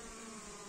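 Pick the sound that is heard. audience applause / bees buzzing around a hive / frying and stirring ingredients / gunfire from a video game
bees buzzing around a hive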